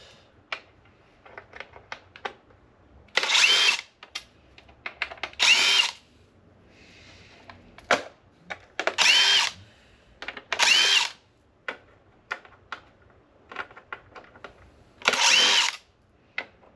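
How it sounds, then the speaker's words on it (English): A power drill backs screws out of scrap electronics being taken apart, with five loud whirring bursts of a second or so each and light clicks and handling noises between them. "Let's go ahead and take the screws out of these."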